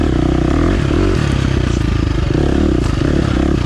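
A 2023 KTM 350 XC-F dirt bike ridden on a trail in first gear, its close, loud engine chugging steadily with rattling clatter and slight throttle swells, no voice.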